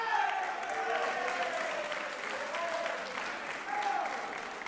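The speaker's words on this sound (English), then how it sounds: "Round of applause for the baseball team." A crowd at a school sports awards ceremony applauds the baseball team, a steady, full wash of clapping from many people with a few faint whoops and voices mixed in.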